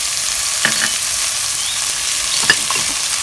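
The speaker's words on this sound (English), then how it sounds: "We have some butter. Adding in the onion," Onion and garlic sizzle in melted butter in a pan for White Chicken Chili, a steady close frying hiss with a few soft clicks of a utensil, no voices.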